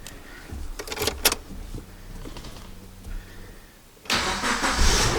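A Suzuki Jimny's engine, after sitting abandoned for two years, cranks and turns over nearby, idling unevenly before revving up loudly into a roaring run.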